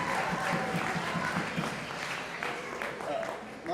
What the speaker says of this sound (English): Let's give a round of applause to all the volunteers and to all the staff.